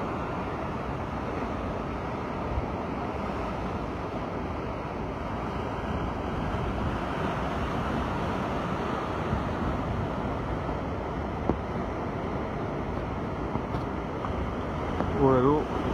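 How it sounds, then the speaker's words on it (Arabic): Rough, stirred-up sea in fog, with steady broadband roar of waves and gusting wind buffeting the microphone, continuous and loud throughout with no clear breaks. "البحر هايج، كاينه الضبابة"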